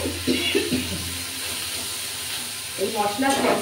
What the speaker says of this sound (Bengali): সর্ষেটাকে আমি সুন্দর করে নেড়ে নিই।